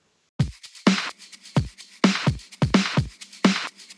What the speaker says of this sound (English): I also took some electronic drums that were in the stems